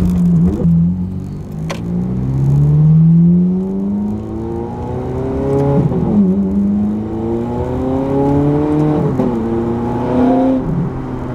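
The 510 hp engine of a Ferrari 430 Scuderia revs loudly and close in repeated rising sweeps as it accelerates through the gears, dropping back between pulls.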